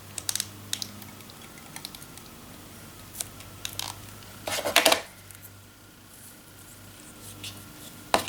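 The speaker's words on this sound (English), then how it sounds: "Now I'm going to take this and adhere it using my Crafter's Companions tape runner." A Crafter's Companion tape runner rolls adhesive to fix paper onto card, heard as a short, close, rasping burst near the middle among scattered light desk clicks and taps, with no talking.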